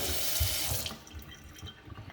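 Hot water gushing from a kitchen faucet and sprayer into a sink during a move-in house inspection, a loud steady rush that cuts off partway through, leaving faint drips and trickling.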